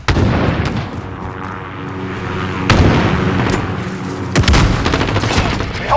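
Cruise missile strike explosions in a first-person shooter match, a string of heavy booms and crackling blasts, loud and dense, with gunfire mixed in.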